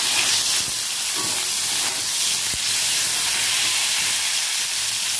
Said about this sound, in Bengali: এবার ওই তেলতে ডাঁটা ক্যাপসিকামগুলো ভেজে নেব।